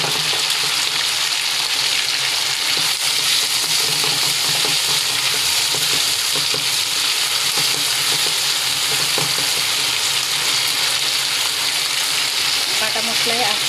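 A blended paste of dried red chili, ginger, cumin and garlic with slit green chilies fries in oil with a constant, loud, close sizzle and crackle, broken by occasional stirring scrapes, lasting the whole stretch.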